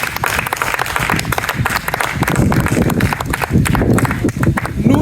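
Applause and clapping from an audience at a formal celebration dinner for newly promoted graduates, a sustained dense patter of many hands with some crowd noise, fairly loud throughout.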